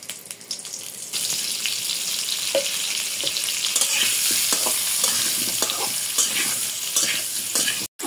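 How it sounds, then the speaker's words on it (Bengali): Potatoes frying in a small amount of oil, a steady close sizzle that starts after a quieter moment, with occasional stirring scrapes, loud and continuous until a brief cut near the end. "আমি কয়েকটা আলু ভেজে নেব, এই জন্য একটু তেল দিয়ে দেব সামান্য পরিমাণ।"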